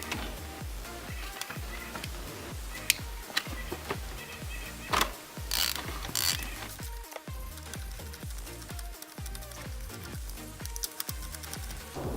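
A ratchet on a 5/8 spark plug socket with a long extension loosens the spark plug on a Honda TRX450R ATV, giving rapid, close clicking bursts with brief pauses between them and no talking.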